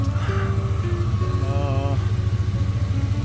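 A Chevrolet Suburban LT 2500 3/4-ton engine idles through a Flowmaster-type aftermarket exhaust with a deep, throbbing rumble, steady and fairly loud, with a faint whine rising briefly above it.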